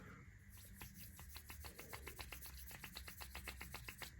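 Perspex being hand-sanded with 320 and 400 grit sandpaper in one direction, a steady series of about twenty crisp rasping strokes in a quick regular rhythm, close and clear with no talk.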